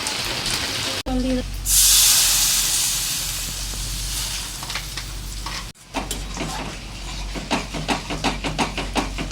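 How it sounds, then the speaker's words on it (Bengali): Potatoes and spices fry in hot oil in a continuous loud hiss and sizzle, with a brief stirring scrape and louder crackling bursts toward the end, as someone speaks and heavy rain falls outside. "এবার আলুটাকে আর মশলাটাকে ভালোভাবে কষাতে হবে, যেমন দেখছো কেমন ফুটছে"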